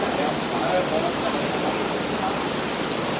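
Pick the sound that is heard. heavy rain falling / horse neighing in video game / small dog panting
heavy rain falling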